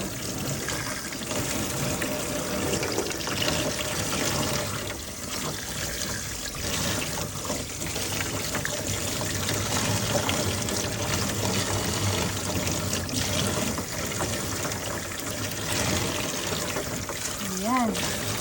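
Fish being rinsed under running water makes a steady splashing flow that lasts throughout, with a person talking over it from time to time.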